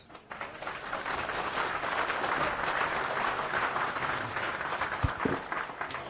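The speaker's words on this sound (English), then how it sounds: "So give a round of applause." A conference audience at a FOSDEM talk applauds, a dense steady burst of many hands clapping that fills the room for several seconds before tapering at the end.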